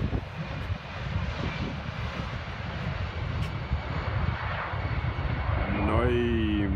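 A fixed-wing airplane takes off from a runway near a grill spot, its engine a loud, broad roar that holds steady before a rising whine near the end, with people talking over it.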